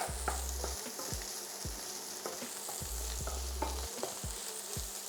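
Tomato puree frying in a pan with a steady broadband sizzle, repeated scraping stirs cutting through at a roughly regular rhythm, close and fairly loud, with no voices.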